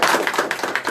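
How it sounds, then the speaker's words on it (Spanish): A church congregation claps in a brief, close burst of about a second, individual claps audible in a quick rhythm. "Démosle un aplauso fuerte al Señor."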